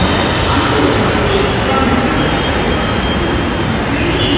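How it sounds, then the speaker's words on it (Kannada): A metro train rumbles past nearby, a loud continuous roar that fills the whole stretch without easing, with no clear talk over it. "ಕೇಳಿಸ್ತಲ್ಲೋ ಗೊತ್ತಿಲ್ಲ ಮೆಟ್ರೋದು"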